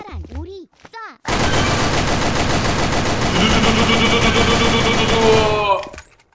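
Sustained automatic gunfire in the online shooter Sudden Attack, a dense, loud machine-gun stream of rapid shots lasting several seconds, preceded by a brief vocal sound and cut off abruptly.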